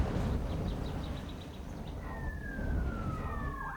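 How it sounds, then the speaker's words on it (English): Siren of fire trucks arriving at a house fire, a faint wailing tone sweeping in the second half over a steady background rumble. "I hear sirens. Firefighters are here."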